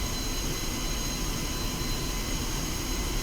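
Su-25T jet in Digital Combat Simulator taxiing onto the runway, a steady whining jet engine drone with constant broadband roar, heard alone.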